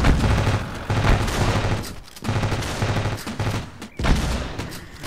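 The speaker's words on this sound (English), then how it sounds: "They have a flak gun going, shooting at us, I believe." A flak gun pounding away in the video game Ravenfield, loud continuous bursts of heavy rapid fire in several long volleys with brief pauses between them.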